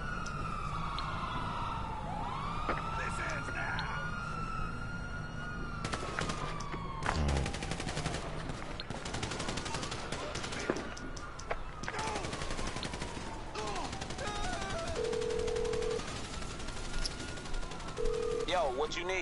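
Gunfire in Grand Theft Auto, sharp shots and bursts going off amid wailing police and emergency sirens that sweep up and down, with a voice talking over the chaos.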